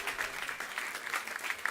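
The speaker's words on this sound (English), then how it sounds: "Keep that applause going" An audience at a Climate Week panel on regenerative food systems keeps applauding, steady soft clapping from many hands at a distance with no talk over it.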